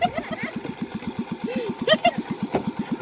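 Klotok wooden motorboat engine near a bridge in Indonesia, a steady rapid putt-putt chugging with even rhythmic pulses, fairly close, with people chatting over it.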